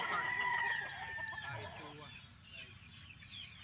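Young Polespark Gray gamefowl chickens at a farm, faint clucks and short calls with a distant crow under a low background hum, no talking heard.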